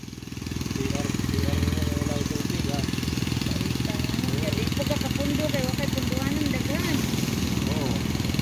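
A motorized engine drives a pump drawing water up from a well, a steady close chugging drone that starts up and runs continuously, with people talking over it.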